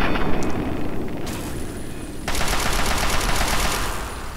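Sustained gunfire in Fallout 3 forms a dense rattling barrage. The tone changes sharply partway through, and the firing stays loud and continuous throughout.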